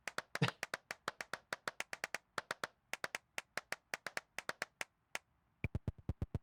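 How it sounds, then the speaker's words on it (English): Hands clap steadily inside an abandoned church, sharp evenly spaced claps ringing out one after another with a brief pause before a faster closing run of claps. "You're clapping steadier than any of us managed."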